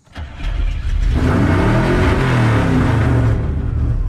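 An old ramp truck engine cranks and fires up, then settles into a loud, steady, rumbling run with a slight throttle rise, heard close and alone.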